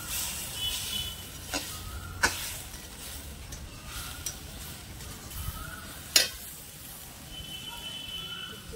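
Chili paste and other ground spice pastes fry in a pan while a fish dish is cooked, giving a steady sizzling hiss with occasional clinks of a utensil against the pan.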